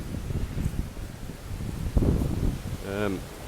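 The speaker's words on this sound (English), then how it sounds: "Sorry about the wind, guys." Gusty wind from a storm buffets the microphone in a vegetable garden with low rumbling and rustling throughout, with a brief faint voice-like sound near the end.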